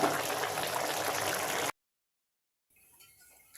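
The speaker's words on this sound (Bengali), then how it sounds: "আমি হাই হিটে চুলার জালটা দিয়ে এভাবে পানিটা টেনে নিচ্ছি" Water boils off hard in a pot of egg biryani over high heat, a loud dense bubbling hiss that cuts off abruptly into silence, followed by faint, quieter bubbling.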